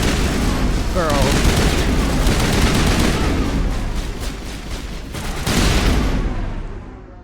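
Video game gunfire and combat in Mass Effect Legendary Edition: dense rapid shooting and booming impacts continue throughout at close range, with brief weapon bursts and explosive thuds layered together.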